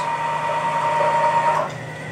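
CNC router stepper motors, 420 ounce-inch units, running with a steady electronic whine and faint mechanical hum that holds for about a second and a half before easing down.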